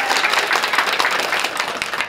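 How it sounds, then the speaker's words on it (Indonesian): Crowd clapping at an outdoor community charity event in Cimahi, a steady dense patter of hands filling the moment without a break, fairly close and moderately loud. "Boleh berikan tepuk tangan untuk PBB dan juga."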